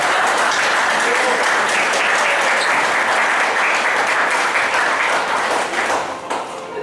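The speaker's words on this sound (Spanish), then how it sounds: "Un aplauso para Enrique, por favor." An audience at a training event breaks into sustained applause, dense loud clapping that holds steady and then thins out and fades near the end, with some voices mixed in.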